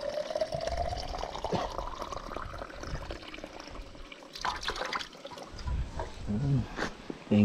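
Mountain spring water collected on a hike, pouring and splashing steadily into a container close by, with brief trickles and knocks as people talk over it.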